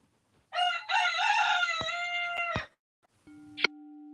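A rooster crows nearby in the morning, one loud, long, harmonically rich cock-a-doodle-doo, then a shorter call follows after a pause over a steady background tone.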